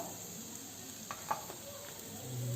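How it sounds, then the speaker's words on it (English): Blanched tomato puree going into a hot pan of spices, a steady sizzle with a couple of soft clinks and stirring sounds, faint and close. "So now, at this stage, I am going to add the blanched tomato puri."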